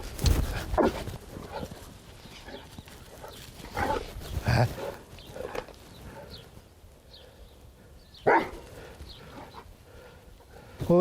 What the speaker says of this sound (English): Bit of dog entertainment, you know, bit of mucking around there